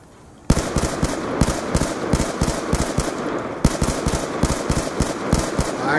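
Call of Duty: Black Ops II gunfire on Xbox 360 during a hardcore search-and-destroy match: loud, close automatic bursts in a fast, steady rhythm, with a short break midway before the firing resumes.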